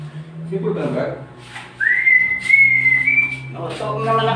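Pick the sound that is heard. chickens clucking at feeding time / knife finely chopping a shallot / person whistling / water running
person whistling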